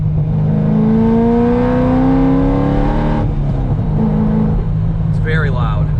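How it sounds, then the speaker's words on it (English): A C6 Corvette Grand Sport engine with exhaust flaps open revs up loudly, its pitch climbing, then drops to a deep, rumbling idle, with a voice briefly audible near the end. "I want to open the exhaust for you now and kind of play around a little bit"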